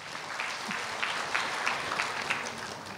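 A church congregation at a morning prayer service applauds, a steady, dense wash of many hands clapping at moderate distance for the full three seconds, with no speech over it.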